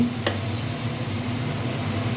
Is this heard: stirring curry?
yes